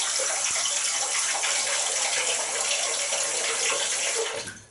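Cold water runs steadily from a tap in a constant hissing stream, close by, then cuts off abruptly at the end.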